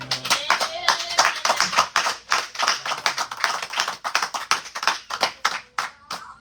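A church congregation claps together in a lively, steady run of close, sharp claps filling the room, with a faint voice or two underneath.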